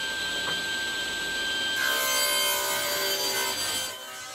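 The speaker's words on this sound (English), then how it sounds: "Quick tip when planing end grain, you're going to smash the grain out the other end when you exit." A hand plane shaves across elm burr end grain with a dry, rasping scrape that swells into a stronger stroke midway, then drops off at the end.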